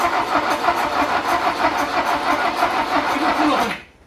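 A Lada Riva car engine cranks and runs with a loud, steady, rough roar close by for nearly four seconds, then cuts off abruptly into quiet.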